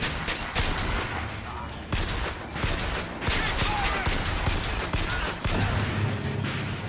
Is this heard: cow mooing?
no